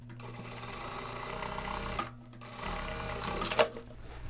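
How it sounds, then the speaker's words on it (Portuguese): A sewing machine topstitches denim shorts, running with a steady close mechanical whir that pauses briefly midway before resuming, with no voices over it. "Pesponta é essa costura que a gente dá por cima, tá?"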